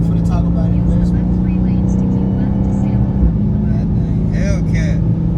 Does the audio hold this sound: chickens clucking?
no